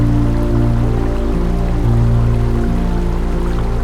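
Water pouring steadily at Hundru waterfall near Ranchi, a loud, continuous broadband rush with a constant low rumble and no pauses.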